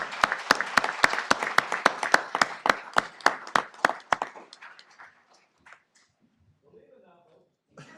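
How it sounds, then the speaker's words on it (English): A small group applauds at a city council regular session, a sparse run of distinct, crisp claps in an even rhythm for about four seconds, then fading into scattered final claps and quiet murmuring. "Let's have one more round of applause for Bill."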